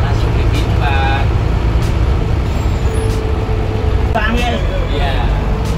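A car's engine drones steadily as it speeds up while driving and shifts into fourth gear. The low rumble runs continuously beneath almost constant talking.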